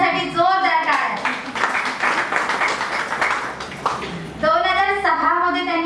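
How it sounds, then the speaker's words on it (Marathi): At a women's breast cancer awareness event, the audience gives a burst of clapping lasting about three seconds for Sanjanatai, with someone speaking before and after the applause. "माझ्या संजनाताई यांच्यासाठी जोरदार टाळ्या"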